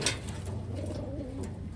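Soft cooing of a slate pigeon from Taiwan over a steady low background hum, a close, gentle bird call lasting a moment.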